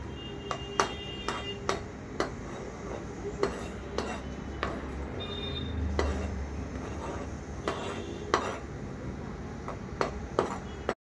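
Cut potatoes, cauliflower and peas tipped into a pressure cooker for oil-free pav bhaji: repeated bright metallic clinks and taps of a spoon against the pot, spaced irregularly over a low background rumble.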